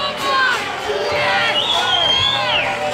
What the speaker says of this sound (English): And the crowd applaud.